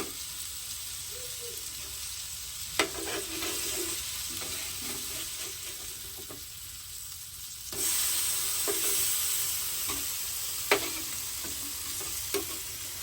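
Tuna pieces frying in a hot pan with a steady broadband sizzle, interrupted by a few sharp clicks and scrapes as the fish is flipped, with the sizzle swelling louder after the turn; no talking.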